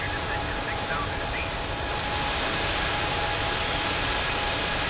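Airbus A380 four-engine jet roar in Microsoft Flight Simulator, a steady loud broadband engine drone holding for several seconds, with someone talking faintly over it.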